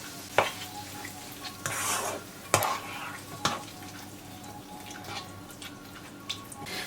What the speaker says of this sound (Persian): زمانی که مایه گوشتیمون سرخ شد 2 تا قاشق رو به گوجه بهش اضافه میکنم و خوب تفتش میدم